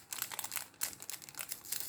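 A plastic bag holding rubber stamps crinkles up close in quick, bright rustling bursts as it is handled and opened, with no talking.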